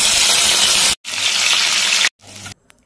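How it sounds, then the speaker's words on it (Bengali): Pieces of boiled young jackfruit frying in hot oil in a kadai, a loud, crackling sizzle heard in three bursts split by brief silent cuts, the last one shorter, ending in near quiet. "এবার আমি এঁচোড়টা তেলে ভেজে নেব।"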